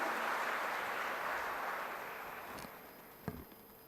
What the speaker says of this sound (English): Please put your hands together and welcome with a big round of applause